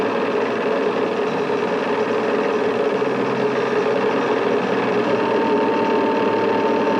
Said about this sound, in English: Run the engine and push the field control switch to on.